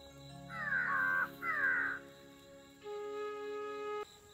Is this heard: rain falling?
no